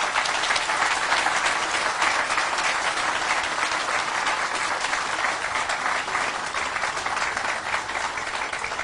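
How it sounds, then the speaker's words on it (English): A ceremonial audience at a Tennessee 225 history celebration keeps up a long, even round of applause, a dense, steady roar of many hands clapping without letting up and without any talking over it. "I want you to give him a huge round of applause"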